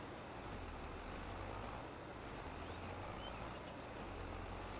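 Tractor engine in Farming Simulator 22 on the Silverrun Forest map, a steady low droning rumble with broadband mechanical noise, continuous and fairly quiet with no talking.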